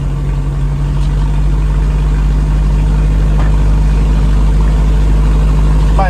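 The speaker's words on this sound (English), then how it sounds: "My exhaust is still held up by a ratchet strap. Assuming that doesn't melt. Seems pretty loud." A 1987 Toyota van engine runs loudly with a leaky exhaust hung from a strap, a constant deep droning rumble with a steady hum, close and unbroken, with no talking.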